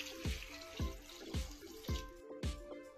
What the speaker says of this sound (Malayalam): വേവാൻ ആവശ്യമായ കുറച്ച് വെള്ളം ചേർത്ത്